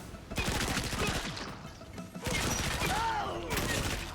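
Rapid automatic gunfire in the video game Dying Light The Beast, loud bursts of closely spaced shots, broken by a short pause and then resuming, with a voice speaking French over part of it.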